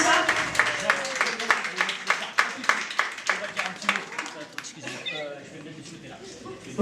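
An audience claps for Sabrina, a contestant at the Miss Belle Kabylie 2017 pageant, as she is announced. The applause is steady, made of many sharp claps, with talk and cheering over it that fade near the end.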